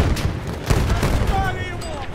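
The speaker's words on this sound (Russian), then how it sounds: "Граната пошла!" A grenade explodes in the World War I shooter Battlefield 1 on the Tsaritsyn map, a short, heavy boom amid game noise and scattered gunfire.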